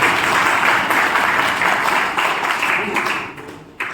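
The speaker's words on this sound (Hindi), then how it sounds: "एक बार ताली फिर से हो जाए." Sustained audience applause fills the room at a school farewell ceremony for a retiring vice principal, loud and dense, with speech mixed in and the clapping thinning toward the end.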